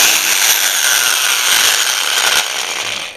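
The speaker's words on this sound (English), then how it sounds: "the thought of drilling into my precious boat scares the living daylight out of me" A power drill bores into the hull of a Perception Expression kayak, giving a loud, steady, gritty whirring that runs unbroken for about three seconds with no voices.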